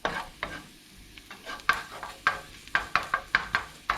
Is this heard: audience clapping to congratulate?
no